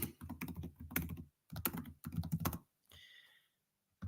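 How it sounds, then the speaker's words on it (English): Typing on a computer keyboard makes close, rapid bursts of crisp key clacks in quick clusters, with brief pauses between runs and a short scraping rustle near the end. "Just type in the word, well, I'll do it for you guys."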